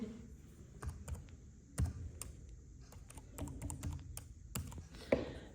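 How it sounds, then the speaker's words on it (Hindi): A password is typed on a computer keyboard as a quiet, irregular run of individual key clicks, close by and fairly soft, with no one speaking. "मैं यहाँ पर एक बार पासवर्ड डाल लेती हूँ, पासवर्ड एंटर कर लेती हूँ"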